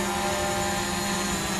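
A DJI Mavic Pro drone fitted with Master Airscrew propellers hovers nearby, putting out a steady, even whine and buzz of spinning props with hardly any change in pitch.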